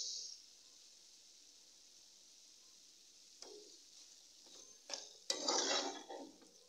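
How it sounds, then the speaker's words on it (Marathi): Fried paneer pieces are stirred into a chilli mixture in a pan: a faint hiss at first, then scraping and clinking of a spoon against the pan, growing louder in the last few seconds. "आणि हे चांगले सगळे मिक्स करून घ्यायचे याच्यात."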